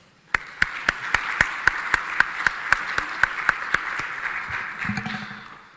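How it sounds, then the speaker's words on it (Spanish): Sharp, evenly spaced claps ring out close up at a capital markets conference, over a bed of softer crowd applause that fades at the end as a voice begins. "Para todos ellos también les pido un fuerte aplauso."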